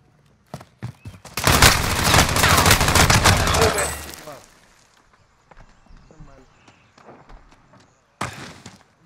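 Video game gunfire erupts in a loud, rapid automatic burst for about three seconds, then fades to scattered distant shots and footsteps before a final short burst, with a voice speaking over it.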